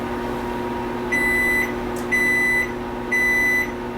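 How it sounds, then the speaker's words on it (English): While sourdough bread bakes, a kitchen timer lets out three evenly spaced, loud, sustained electronic beeps, each about half a second long, over a faint background hum. "With the constant sound of the timer, Randall Livingood continues to bake"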